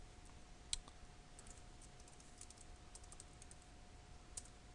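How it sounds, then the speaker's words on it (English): A username and password are typed on a computer keyboard as a few faint, sparse key clicks spread over a quiet, hissy background, with one slightly louder tap near the start. "So we'll type in root and then the password that we put."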